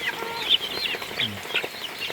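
Backyard chickens and a rooster cluck and squawk close by, a busy mix of overlapping clucks and higher calls with a few sharper peaks, no talking.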